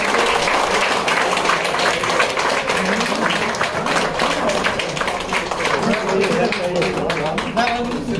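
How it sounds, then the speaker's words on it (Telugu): Audience at a Christmas celebration in a TV channel office clapping loudly, with talk running over the steady applause throughout. "ఒకసారి గట్టిగా చప్పట్లు కొడదామండి."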